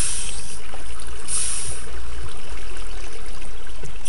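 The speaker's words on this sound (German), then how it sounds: "Irgendwo kommt da noch Wasser durch." Steady trickling water seeping through a gap in a block wall in Minecraft, a continuous close wash of running water with no talk over it.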